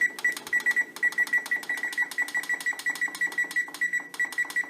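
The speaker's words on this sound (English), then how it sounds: "I'm going to hit the timer." A kitchen timer beeps in a fast, steady run of bright, even electronic tones, close and loud, while bread bakes in a preheating oven.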